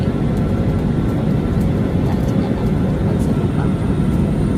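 An airplane roars loud and steady at Hong Kong International Airport, a dense continuous low rumble of jet engine noise that drowns the surroundings for the whole stretch.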